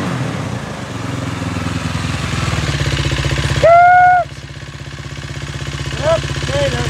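Engine of an old race quad ATV running loud and close with a steady rapid chugging idle, a brief higher tonal whine in the middle, people talking over it.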